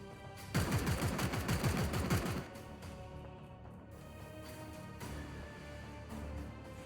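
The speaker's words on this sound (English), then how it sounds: "Suppressive fire." Rapid gunfire from the Warhammer 40k Chaos Gate: Daemonhunters game, a dense loud burst of automatic shots lasting about two seconds, then a lower rumbling game backdrop with scattered faint shots.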